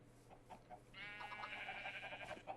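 Sheep bleating in a modded Minecraft GregTech world, one drawn-out wavering bleat at moderate distance, with faint background noise before it.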